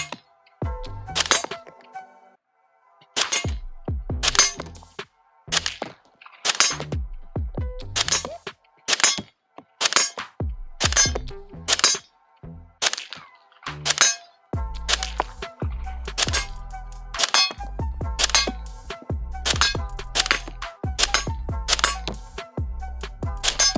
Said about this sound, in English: Again, CZ Bren 2S. Let's take a few shots.